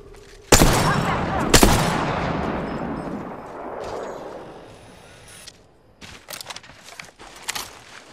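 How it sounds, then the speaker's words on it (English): Gunfire in the Apex Legends video game: two loud, sharp shots ring out close by with a long echoing decay, followed by scattered quieter shots and clattering bursts farther off. "Listen up, I'm being shot at."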